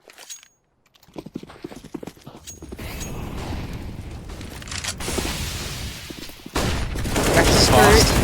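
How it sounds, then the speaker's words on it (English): Gunfire and a flashbang grenade go off in a competitive Counter-Strike match: dense, rapid bursts of shots and crackling impacts build in loudness over a busy game soundscape. "the flashbang is good. They get both kills. That was a great flash."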